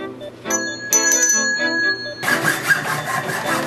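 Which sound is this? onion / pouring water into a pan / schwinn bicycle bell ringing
schwinn bicycle bell ringing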